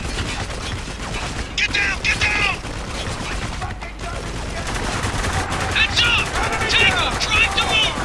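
Gunfire in the video game Spec Ops: The Line comes as bursts of rattling shots and mechanical clicks over steady game noise, with a player talking throughout.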